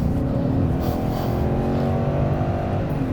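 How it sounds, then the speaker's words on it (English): A BMW E39 540i with a completely stock exhaust pulls hard under acceleration, its engine note loud and steady as it rises through the revs, heard from inside the car with no one speaking. "I do like the sound this car makes. The exhaust is entirely standard."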